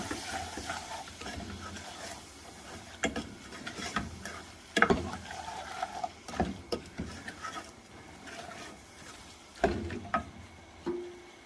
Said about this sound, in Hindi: मसाले डाल के फिर हम इसे 2 से 3 मिनट तक भूनेंगे।